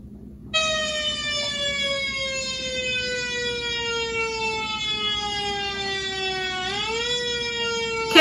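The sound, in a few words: fire truck or ambulance siren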